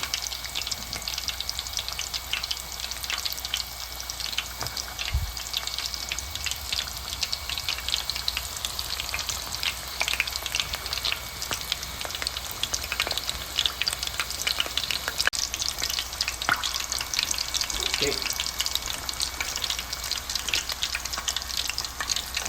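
Jumbo prawn katsu deep frying in hot oil, a steady dense crackling sizzle with scattered bubbling pops, continuous and fairly loud throughout with no voices.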